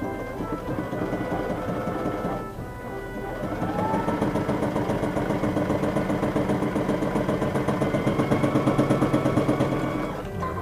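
A Baby Lock Ellisimo sewing machine stitches a half-inch seam in leather at 3.0 stitch length, a steady rapid mechanical chatter that pauses briefly early on, then runs continuously and close for several seconds.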